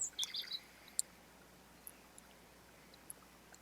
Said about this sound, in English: the bats down here like to chirp and sing